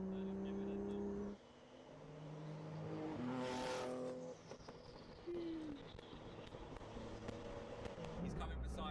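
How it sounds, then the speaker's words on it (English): A car running without mufflers gives off loud exhaust noise with revving surges and a passing roar. A second engine joins partway through, and talk is heard underneath. "car's got no mufflers, so it is a little bit loud"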